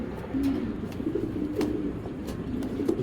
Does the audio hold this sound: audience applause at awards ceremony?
no